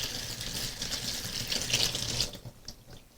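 Tap water running into a kitchen sink while gnocchi are rinsed, a steady close hiss and splash that cuts off near the end.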